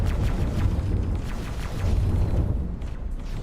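A torpedo strikes its target in the space game X4: Split Vendetta, setting off a loud, sustained rumbling explosion with dense low-end booming that rolls on for several seconds without talk.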